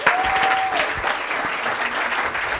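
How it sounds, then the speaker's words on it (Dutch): An audience at a Dutch talk show applauds after a host's call for a big round of applause for two guests, a loud, dense burst of clapping from the start to the end. "Dames en heren, mag ik een groot applaus voor Jeroen Windmeijer en Thomas Aldeheuvelt"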